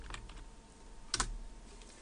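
A few quick keystrokes on a computer keyboard as a folder name is typed on a desktop, soft clicks scattered near the start and a brief louder cluster midway, close and quiet with no talking.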